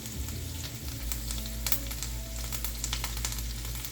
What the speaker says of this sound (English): Just be careful with the popping oil. The butter kind of helps with that.